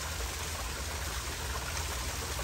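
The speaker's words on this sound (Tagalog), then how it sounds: "Masarap pakinggan ng daloy ng tubig." Water flows at Pa Falls waterfall as a steady, dense rushing wash that stays even and continuous throughout, with no voices.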